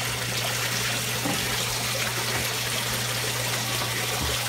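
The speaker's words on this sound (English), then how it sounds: "it swirls down, comes up, and then goes down through that pipe, and then down into the sump. And then that is the water flow." Water pouring down a pipe through an aquarium sock filter into a sump makes a steady, loud, close rushing trickle with a constant low hum beneath it, and no talk.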